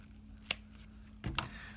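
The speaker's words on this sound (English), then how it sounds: "you can go in there with your scissors" Scissors snipping foam on a stop-motion puppet, two short crisp cuts about a second apart with faint handling noise between them, quiet and close.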